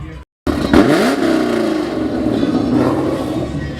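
After a brief silence, a Cadillac engine revs hard and roars steadily, loud and close, the pitch sweeping up and then holding.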